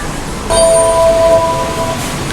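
A bright electronic chime like the Windows 7 startup sound rings out with sustained tones over steady background rumble, aboard a Chennai Beach–Chengalpattu AC local train.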